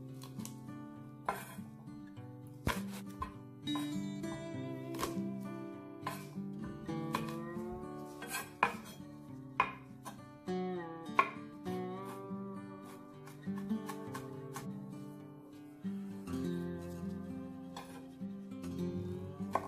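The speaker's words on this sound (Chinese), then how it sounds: "蒜头20克，切碎。" A knife chops garlic on a cutting board for a Vietnamese dipping sauce, with a long series of sharp, irregular taps and clinks, sometimes in quick bursts and sometimes spaced out, fairly close and clear with no talk.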